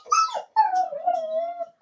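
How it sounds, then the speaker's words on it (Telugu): A dog in London gives a short yelping whine, then a longer wavering howl that tails off, close and clear against near silence. "డేంజర్ కుక్క అదైతే."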